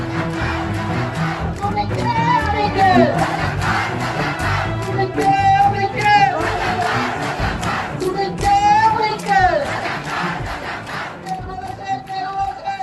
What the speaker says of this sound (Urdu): احتجاج کرنے والے لڑکے لڑکیاں نعرہ لگا رہے تھے، تم کون ہم کون، رضاکار رضاکار